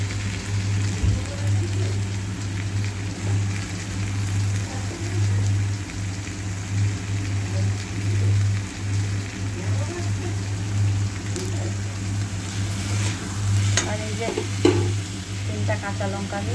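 Cauliflower florets fry in a pan with peas for a cauliflower keema matar, giving a steady loud sizzle with occasional scraping stirs and clinks, and no talking.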